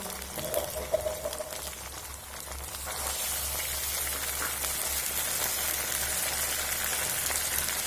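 Stone-ground spice paste hits fried onions in a hot pan, and a bright, steady sizzle rises and holds close and fairly loud, with no talking.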